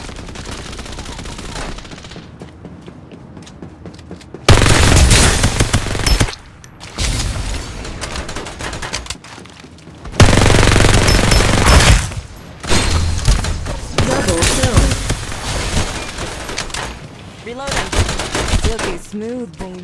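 Gunfire in the shooter game Farlight 84, with loud bursts of rapid automatic fire in several long volleys separated by quieter gaps, close and punchy.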